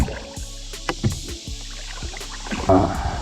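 A few hollow knocks and bumps of a caught fish against a kayak hull on a clear creek, irregular and close, with light splashing of water toward the end.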